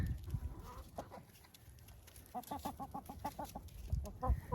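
Hens cluck in a rapid series of short, pitched calls in winter, with some low rustling and background noise around them; no talking.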